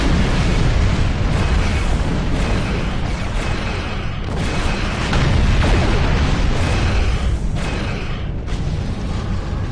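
Loud, continuous booming explosions from torpedoes in a space combat game, a dense rumbling barrage with repeated bursts throughout and no talking.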